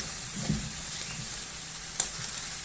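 A spiced filling with black pepper and chili flakes fries in a pan for Albanian hand-rolled börek, a soft steady sizzle with a couple of light scraping stirs.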